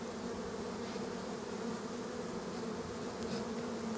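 Disturbed honeybees from an active colony drone loudly and steadily in a close, dense buzz from the opened hive, with no voices.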